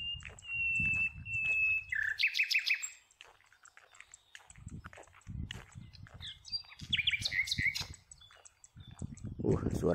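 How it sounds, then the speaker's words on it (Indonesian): Small birds chirp and trill in quick bursts over rice paddies, bright high calls rising above low rumbling background noise and occasional talk. "Suara burung sudah mulai terdengar menghiasi area pesawahan ini."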